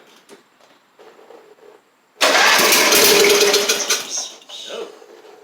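An opposed twin Briggs & Stratton engine on an MTD riding mower cranks and then fires up, bursting into a loud, rough roar that holds for a couple of seconds before settling and fading, with quieter mechanical clicks before it.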